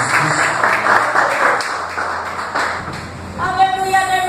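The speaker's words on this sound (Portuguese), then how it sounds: "Seja se aplaudido em nome do Senhor Jesus Cristo." Church congregation applauding during a service, a scattered burst of clapping mixed with a voice, fading before a ringing tone rises near the end.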